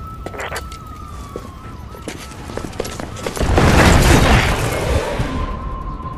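Bombing explosions in the Resident Evil 6 video game: scattered impacts and a siren-like tone give way to a loud, roaring burst of blasts midway that slowly fades.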